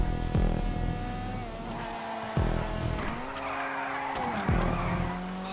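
Car tires skid and squeal through several sharp slides in a GTA 5 rallycross race, with engine tones sweeping up and down. The screeches come loud and close over a steady engine drone, with no talking.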